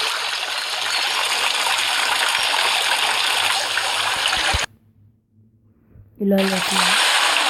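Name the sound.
water filling and flowing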